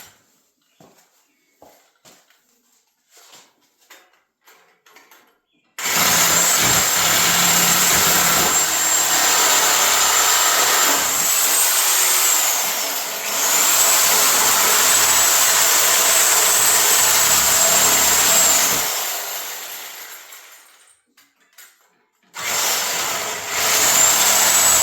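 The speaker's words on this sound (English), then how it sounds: "All right, Sawzall." After some scattered clicks and handling, a Sawzall reciprocating saw cuts through shop table boards with a loud, continuous buzzing whine. It runs for about thirteen seconds, dips once, stops, and then starts again briefly near the end.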